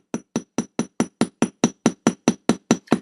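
Thirteen light, evenly spaced hammer taps on jewelry metal at a jewelry-making demo, each a crisp, ringing tick close by, with no voices.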